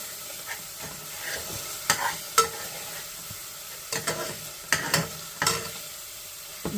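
Okra masala sizzles gently over a slow flame while a spoon stirs and scrapes the pan, giving a soft hiss broken by irregular clinks and scrapes, close and moderately quiet.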